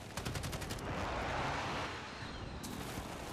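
Shotgun fire in the Call of Duty video game: a dense roar of overlapping gunshots and blasts, loud and sustained, with a sharp crack near the end.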